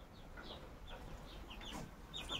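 Soft, scattered clucks from a chick with faint bird chirps, quiet and somewhat distant, no one talking.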